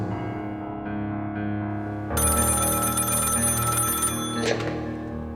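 A personal cell phone rings with a steady electronic trill that grows louder partway through, close and alone without talk.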